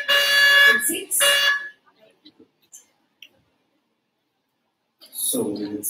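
Contestant buzzers are tested at a German spelling bee in a school hall in Patna: two loud, harsh electronic buzzes at the start, then near silence with a few small clicks, then another buzz at the end.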